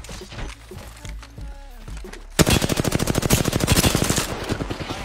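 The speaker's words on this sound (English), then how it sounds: "I just keep shooting." Sustained automatic gunfire from a PUBG match rattles in a rapid, loud burst after a quieter stretch with a few scattered shots.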